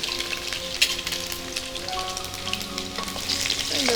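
Crushed garlic hitting hot oil with mustard seeds in a home kitchen, a steady close sizzle and crackle with a few sharp pops, no voices.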